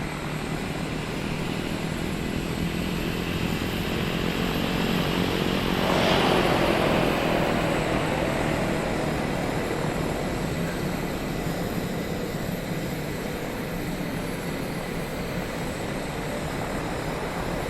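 Turboprop aircraft taxiing to the ramp after landing, a steady propeller drone and turbine whine heard from nearby, swelling briefly in the middle then holding even, with no talk.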